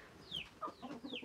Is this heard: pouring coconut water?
no